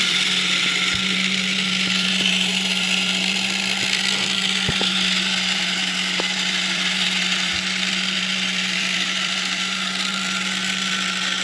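A multipurpose 8-in-1 agricultural machine running slowly with a continuous loud mechanical whir, steady gear noise and a few faint ticking clicks throughout.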